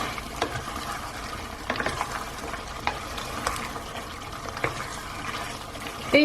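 A spoon stirs garam masala and kasuri methi through a simmering restaurant-style mutton (goat) curry, with scattered scraping knocks against the pot over a soft, bubbling sizzle, close and moderately quiet.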